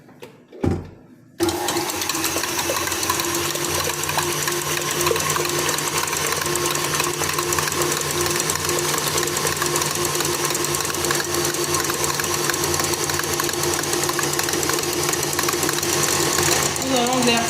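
Electric mixer whipping egg whites for a Christmas log sponge: a steady, loud motorized whir running continuously after a short clatter at the start, with speech heard alongside.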